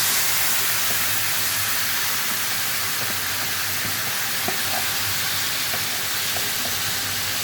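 Chicken being worked together with whole garam masala and dried red chillies in a pan gives a steady close hiss and faint sizzle, with a few soft scraping clicks of stirring throughout and no talking.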